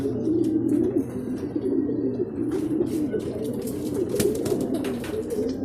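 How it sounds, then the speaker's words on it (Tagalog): Pigeons arriving at a loft coo steadily in a low, rolling chorus, with occasional chirps and faint wing flaps as more birds settle in nearby. "nagdatingan na yung mga ibon. Ayun, nagsisipasok na sila."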